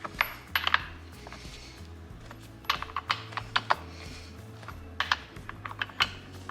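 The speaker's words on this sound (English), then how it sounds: "Now I'm going to tighten up these nuts with this tool." Metal tool clicking and clinking on the bar nuts of a Stihl MS271 chainsaw, a run of sharp close taps and ratchety clatters in irregular bursts over a low steady hum.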